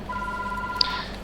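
A telephone rings with a single steady electronic tone lasting about a second, clean and moderately loud, with a small sharp click near its end.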